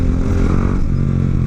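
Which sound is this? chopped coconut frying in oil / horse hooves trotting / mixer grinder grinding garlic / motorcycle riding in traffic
motorcycle riding in traffic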